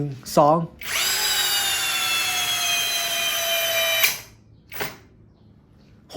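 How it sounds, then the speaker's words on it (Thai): Power drill on its strongest drill mode driving a long roofing screw bit, a steady high whine running about three seconds, framed by short bursts of spin before and after. "ต่อมามาดูความแรงของเครื่องนะครับ กับดอกยิงหลังคายาวๆแบบนี้ ส่วนการปรับเนี่ยจะปรับไปที่แรงสุดนะครับ จะอยู่ที่โหมดเจาะเริ่มเลยครับ"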